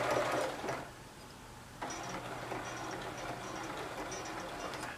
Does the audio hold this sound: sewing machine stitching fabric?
yes